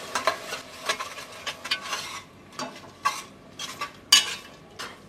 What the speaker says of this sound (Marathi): आता यामध्ये ठेचलेला आलं लसूण घालूया, थोडंसं आपण परतून घेऊया।